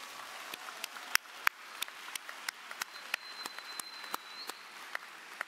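Graduation audience applauding at a university ceremony, heard as faint, scattered handclaps with a few sharper claps standing out, fairly regular and distant-sounding rather than a full roar.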